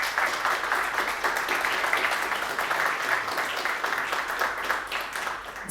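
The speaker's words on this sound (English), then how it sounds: "A warm applause for Sam, please." A conference audience at an AI event applauds steadily to welcome a speaker, a dense, sustained wash of clapping from many hands that stays even throughout, with no voice over it.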